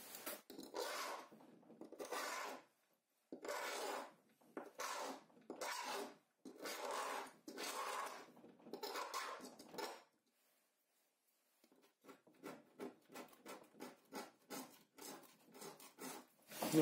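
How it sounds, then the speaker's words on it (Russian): Plaster and enamel paint scraped off a surface with a hand tool: close, rasping scrape strokes in bursts, longer at first, then quicker shorter rhythmic strokes after a brief pause. "Ну, это уже эмаль снимается."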